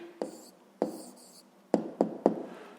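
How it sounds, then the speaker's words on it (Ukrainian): Pen or pencil writing out an answer to a fifth-grade geometry problem, heard as a few quick separate strokes and taps close by, with no talking over them. "Записуємо відповідь."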